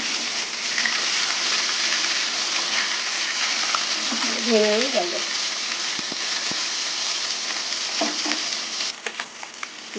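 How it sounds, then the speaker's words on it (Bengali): Bhola fish pieces fry in hot oil in a pan, giving a continuous bright sizzle throughout, with a few clinks and stirring bumps and a brief tonal squeak partway through. "মাছগুলো একটু কড়া করে ভাজবো"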